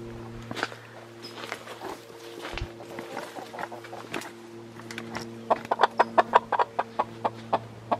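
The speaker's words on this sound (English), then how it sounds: "Big birds." Large farm fowl cluck near the microphone with scattered calls, then a quickening run of sharp, rhythmic clucks toward the end, over a steady low hum; no talking.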